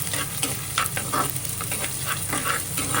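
Green chilies fry in hot oil with a close, steady sizzle and crackle, broken by light stirring scrapes, and no voices.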